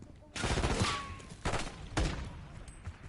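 Heavy automatic gunfire in Call of Duty: Black Ops 6, a minigun-wielding Elite among the attackers, with loud rattling bursts near 0.4, 1.5 and 2.0 seconds over a busy combat background.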